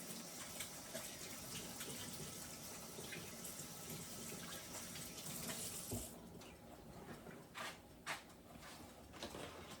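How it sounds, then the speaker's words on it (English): Water runs steadily from a kitchen tap as hands are washed at the sink during chicken-and-dumpling making, a continuous close rushing splash that thins slightly partway through. "Wash my hands."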